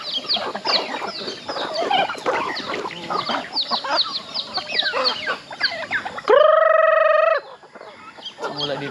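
A sizable flock of farm chickens clucks and squawks continuously nearby, then a loud sustained cry or crow rings out for about a second before the clucking resumes.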